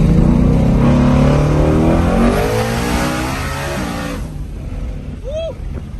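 A twin turbo 2020 Shelby GT500 accelerates hard, its engine roaring loud and close with a rising pitch through gear changes before the roar fades, then a brief high whine near the end.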